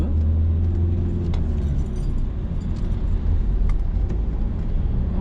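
A car engine drones and pulls steadily while accelerating in second gear during a driving lesson, with a continuous close low rumble and no talk.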